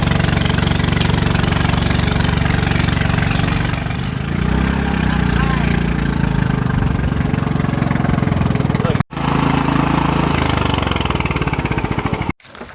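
A small wooden passenger boat's engine drones loudly and steadily throughout, a low, rough, continuous motor hum with a brief dropout near the end.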